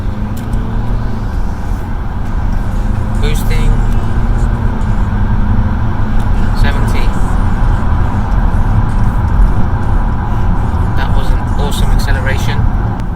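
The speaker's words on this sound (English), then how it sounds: "It wasn't the fastest acceleration that I've had on a car, but nonetheless it's had a really good boost, good pickup" A 2019 Volvo XC90 accelerating under boost, giving a loud, steady engine and road roar from inside the cabin for the whole stretch, with someone talking over it.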